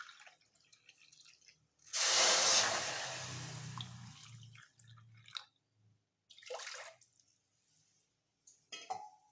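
Water poured from a cup into an empty wok for boiling, a steady splashing gush for a few seconds that tails off, then a couple of shorter pours and clinks, close and alone.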